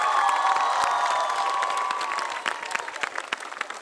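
A school annual concert audience breaks into loud applause and cheering, dense clapping with children's shouts over a sustained tonal hum, fading into scattered claps toward the end.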